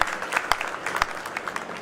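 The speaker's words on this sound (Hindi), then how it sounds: "एक बार तालियां बजा दो इफ यू आर राइट।" A short burst of audience clapping at a Hindi-language school toppers' award ceremony, with a few sharp individual claps standing out over the steady, moderately loud applause.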